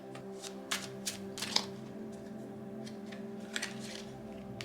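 Tarot cards being shuffled and drawn for a reading, a steady papery riffle with soft scattered flicks and snaps, close and fairly quiet against a faint steady hum.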